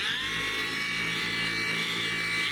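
A cordless 20V buffer polisher with a pad and rubbing compound works a car headlight, giving a steady, high-pitched electric motor whine with a constant drone that holds loud and close throughout.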